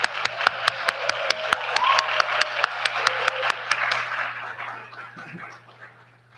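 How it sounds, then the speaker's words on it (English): Audience at an M.Ed. hooding ceremony applauding, a room of steady clapping with sharp individual claps near the microphone, fading out over several seconds. "Will you join me in a round of applause for them?"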